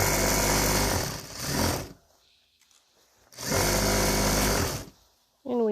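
A sewing machine stitches a baby quilt in two loud, close, steady whirring runs separated by a quiet pause, with a brief restart at the end.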